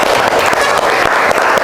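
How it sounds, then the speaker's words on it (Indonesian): A high-school class bursts into steady, dense clapping for a classmate, loud and close throughout, with a few voices mixed into the crowd noise. "Tepuk tangan untuk dia."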